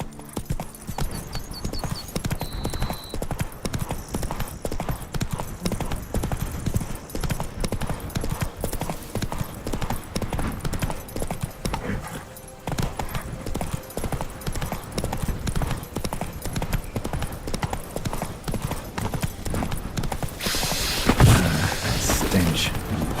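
A horse galloping in the video game Witcher 3: Blood and Wine, a steady rapid rhythm of hoofbeats running throughout, with a voice speaking at times and a loud burst near the end.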